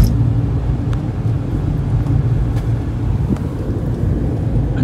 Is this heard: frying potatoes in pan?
no